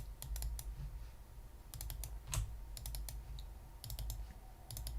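Computer keyboard keys clicked in quick scattered bursts of a few presses each during 3D modeling work, close and fairly quiet with short gaps between, no talking.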